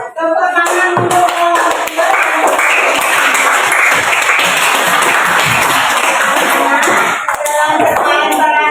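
Classroom applause for students who have just acted out a role-play about rights and duties at home, a dense, steady clatter of many hands clapping together for several seconds before tapering off.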